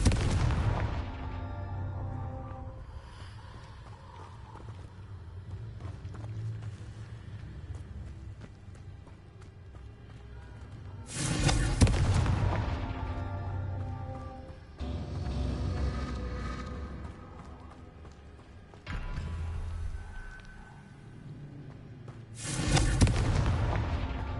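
Repeated fiery blasts from the Confringo spell in Hogwarts Legacy, with three sharp bursts spaced several seconds apart over a steady rumbling game backdrop.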